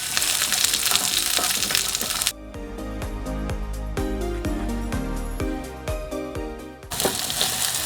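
Garlic and onion frying in oil for a Bicolano laing dish give a dense, steady sizzle at the start and end, broken in the middle by a stretch of music.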